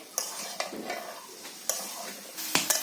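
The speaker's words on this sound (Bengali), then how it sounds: "বেগুন আর আলু দিয়ে দিয়েছি, এবার এগুলো ভালো করে কষিয়ে নেব।" Eggplant and potato are sautéed in a pan for a katla fish curry: a spoon stirs and scrapes in several sharp strokes over a soft, continuous sizzle.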